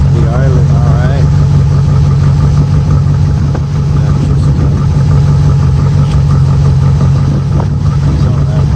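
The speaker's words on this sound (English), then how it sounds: "Seems to be idling alright." A 1969 VW Vette engine, freshly started and cold, idling nearby with a steady low rumble throughout, while someone talks over it.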